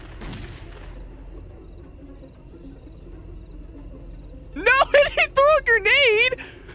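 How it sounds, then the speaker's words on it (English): Explosion and shotgun blasts in a McDonald's-themed horror video game, heard as a loud cluster of bursts near the end after a quieter stretch, mixed with an animated game voice. "The ending where he throws a grenade and shoots me with a shotgun"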